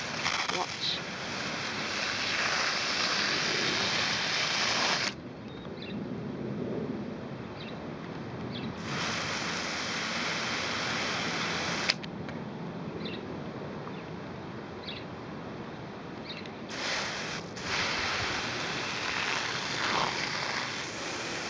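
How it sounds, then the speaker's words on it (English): Water hisses from a Crenova metal hose spray head in broad, steady bursts, cutting off briefly twice as the pattern is adjusted, with someone speaking over the spray. "Just twist it round and then you get a nice spray."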